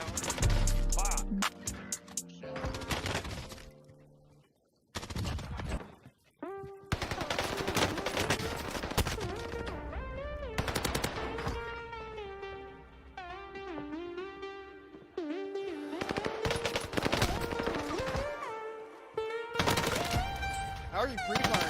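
Video game gunfire in a shooter match, heard as rapid automatic bursts and sharp single shots, some distorted, with pauses between volleys and a player talking over parts of it.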